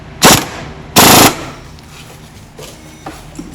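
An impact gun tightens a brake caliper bolt on the rear brakes of a 2006 Toyota Solara, two loud close bursts of rattling buzz, the second longer, followed by faint clinks.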